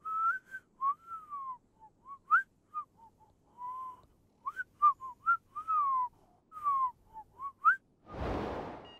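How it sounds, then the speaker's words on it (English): A person whistles a wandering, lilting melody in short bending phrases, clear and close against near silence. A brief burst of noise cuts in at the end. "why don't I entertain you with some of my whistling?"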